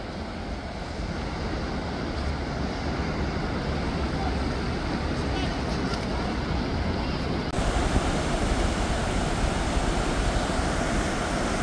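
A swollen river flows after rain in Kathmandu, a continuous broadband rush of water that stays steady throughout and brightens slightly near the end, with no clear speech.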